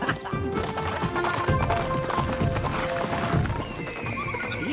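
Cartoon horses gallop with steady, rapid clip-clopping hooves and an occasional whinny, loud and continuous under a music backdrop.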